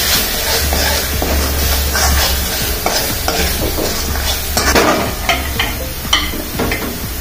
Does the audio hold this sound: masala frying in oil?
yes